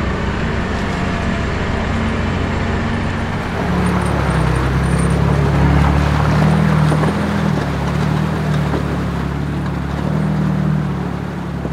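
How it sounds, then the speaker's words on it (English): 4WD in reduction gears towing a camper trailer down a steep forest track, a continuous low engine drone with shifting rumble and road noise, loud and close throughout. "those reduction gears work wonders, especially when you're controlling a trailer down steep stuff."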